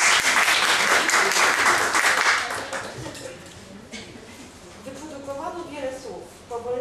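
Audience applause at the preTEXTY 2015 poetry festival in Strzelin, a dense burst of clapping for about two and a half seconds that fades into crowd murmur and a speaking voice.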